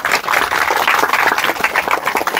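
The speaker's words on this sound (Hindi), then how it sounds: "हाँ जी तालियां तालियां" Dense clapping from a small group at a family gathering honoring someone with a children's clothing business, steady and close for the whole stretch with no talk over it.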